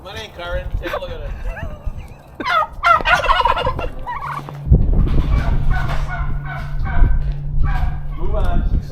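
Turkeys gobble in a barn, their rattling calls rising and falling close by. People talk throughout over the birds and a steady low hum.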